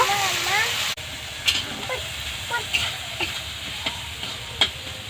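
Chopped onions and tomatoes sauté in a pan with a steady hiss and repeated spatula taps and scrapes; a brief voice is heard at the start before the stirring continues alone.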